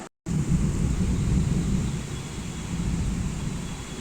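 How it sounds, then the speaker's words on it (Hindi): Heavy rain outside pours steadily, with a dense low rumble and hiss of constant downpour after a brief silent start. "सो बाहर का हालत कुछ ऐसा हो रहा है, पूरा बारिश बारिश यार।"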